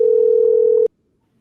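A steady telephone dial tone on a call line, loud and continuous, cutting off abruptly after under a second into silence.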